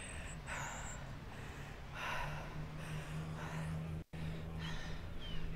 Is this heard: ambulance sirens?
no